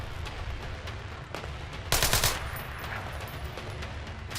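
Gunfire in the video game Splinter Cell Blacklist, a steady crackle of shots beneath constant game ambience, rising to one loud, sharp burst midway before settling back to a lower rattle.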